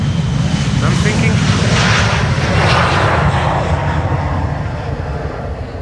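A jet airliner departs Schiphol's Polderbaan runway 36L with a loud, sustained engine roar that swells and then slowly fades near the end.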